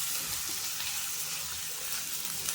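Two onions fry in about two tablespoons of oil in a pan for a paneer butter masala gravy, a continuous soft hiss of sizzling at close range with no talk.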